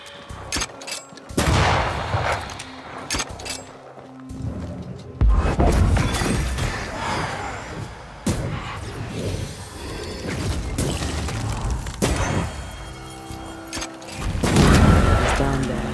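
Gunfire in the video game Banishers: Ghosts of New Eden, several sharp shots and booming blasts scattered unevenly through the stretch, loud and close.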